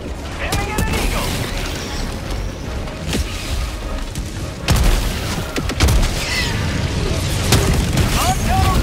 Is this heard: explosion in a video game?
yes